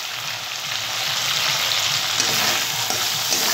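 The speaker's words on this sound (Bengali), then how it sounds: "তেলের মধ্যে দিলাম কালো জিরে।" Black cumin seeds and green chili sizzling in hot oil, a dense, loud, continuous crackle that swells slightly and holds steady, close up with faint stirring clicks.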